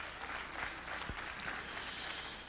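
A church congregation claps their hands during a 1988 Sunday morning service, a steady, dense wash of applause throughout with a faint, roomy feel.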